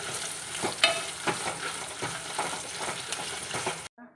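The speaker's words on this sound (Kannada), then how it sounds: "ಇದನ್ನು ಇದರಲ್ಲಿ ಮಿಕ್ಸ್ ಮಾಡಿ ಫ್ರೈ ಮಾಡುವ" Hot and ghati chillies stirred and fried in a pan for a mushroom gravy masala, a steady close sizzle with irregular scraping strokes of the spoon, ending abruptly.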